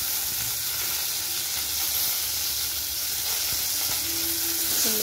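Onion pieces for onion chutney fry in a pan, producing an even, loud hissing sizzle that runs without pause, close by, with a brief faint tone near the end.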